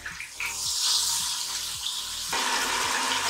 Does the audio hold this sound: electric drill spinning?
no